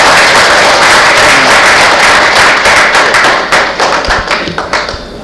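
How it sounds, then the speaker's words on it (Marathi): An audience at a Rotary Club lecture series in Solapur bursts into loud, sustained applause up close, a dense roar of clapping that thins out into scattered individual claps at the end. "इतक्या जोरात टाळ्या वाजवून आपण त्यांचे सत्कार करूया."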